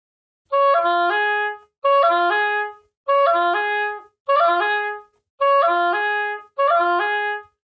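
Six short, separate arpeggio phrases on a reedy oboe played with forked F fingering, each a quick run of rising and falling notes, evenly spaced with brief silences between.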